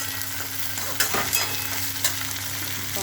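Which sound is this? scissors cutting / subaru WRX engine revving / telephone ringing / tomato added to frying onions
tomato added to frying onions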